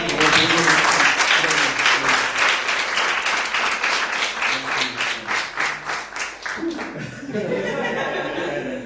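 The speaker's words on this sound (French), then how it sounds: "on peut encore une fois les applaudir au Seigneur" A church congregation in France breaks into loud, dense applause with scattered laughter, the clapping holding strong for several seconds before fading out.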